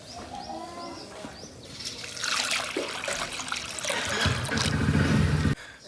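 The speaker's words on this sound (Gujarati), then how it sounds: "પાણીનું કુંડું ખાલી છે, પાણી રેડવું પડે." Water is poured into an empty drinking trough in a farmyard, a splashing, gushing pour that builds and grows louder for a few seconds and then stops abruptly, with faint birds and animals in the background.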